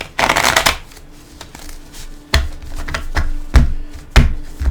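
Tarot cards being shuffled for a reading: a loud riffling burst at the start, then a run of sharper taps and short shuffles, close up and with no voice over them.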